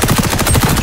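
An MP5 submachine gun fires in the video game XDefiant, a rapid, punchy burst of about eight evenly spaced shots, loud and close with no talk.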